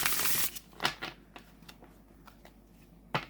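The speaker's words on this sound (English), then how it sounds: "being linen, these are really easy to shuffle" Linen-finish tarot cards are shuffled close up, a burst of riffling followed by a series of soft, irregular flicks and taps, fairly quiet with no talking.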